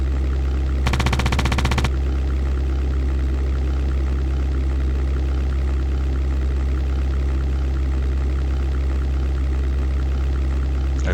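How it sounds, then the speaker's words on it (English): Aircraft machine guns fire at ground buildings in the 1998 flight game European Air War, a short loud burst of roughly one second rising over a steady droning engine hum that continues alone afterward. "I don't know whether these like machine guns are even somehow efficient against such buildings, such ground targets."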